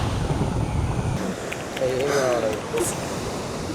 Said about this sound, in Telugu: అలలు ఎక్కువ వస్తున్నాయి కదా